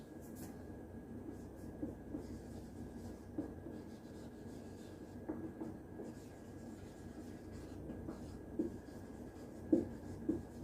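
Chalk or marker scratches across a board in a classroom lecture on networking, with faint intermittent strokes and taps over a quiet room hum and no clear speech.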